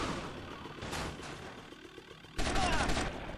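Bursts of gunfire from GTA Vice City Definitive Edition on PS5: a short volley early on, then a louder, longer burst of shots near the end over low background game noise.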